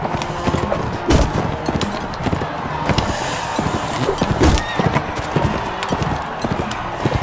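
Horses in a kingdom-building video game, with rapid clip-clop hoofbeats and scattered impacts filling the stretch at steady loudness, plus brief neighs.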